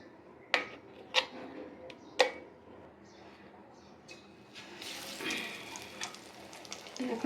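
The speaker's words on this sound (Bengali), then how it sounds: "এখন আমি ভাজবো টমেটো চপ" Tomato chops frying in hot oil on a home stove, a soft steady sizzle broken by a few sharp utensil ticks early on, the frying swelling louder and brighter in the second half.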